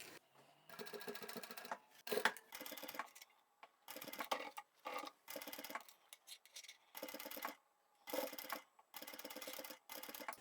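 A domestic sewing machine stitches the side seam of a small fabric scissor-keeper pouch in short bursts of rapid mechanical whirring, stopping and starting repeatedly with brief quiet gaps as the fabric is guided, close and without talk.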